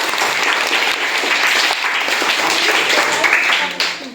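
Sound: applause for a pupil at a school quiz

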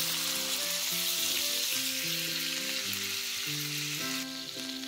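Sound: tahr meat sizzling in a frying pan

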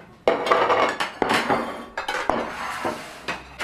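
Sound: silverware and dishes being set out on a table

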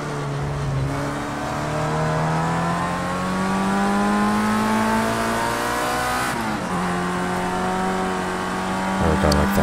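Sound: race car engine revving in Project CARS 2 video game

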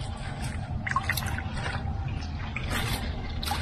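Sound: splashing water in a stream ditch

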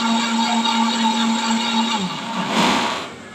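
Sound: mixer grinder blending sautéed tomato paste

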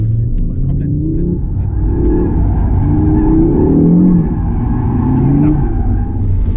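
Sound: Audi car accelerating at full throttle with wheels spinning

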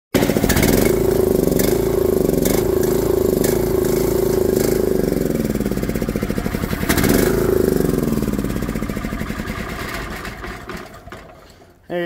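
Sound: small square bale chopper engine running

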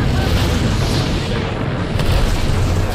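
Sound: grenade explosion in Apex Legends video game

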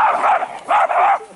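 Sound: small dog barking

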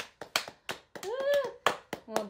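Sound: applause, clapping

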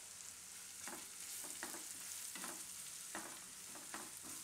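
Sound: red chillies and asafoetida sizzling in hot oil

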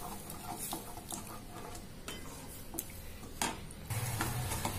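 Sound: stirring semolina cooking in milk for sheera

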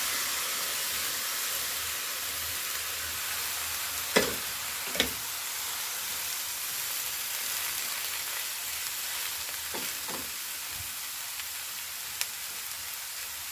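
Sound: boiled green beans added to a pan and stirred

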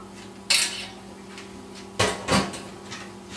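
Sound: adding drained pasta to a soup pot

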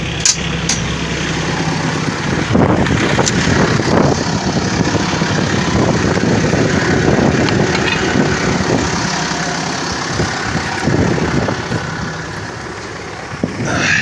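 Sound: tractor engine running

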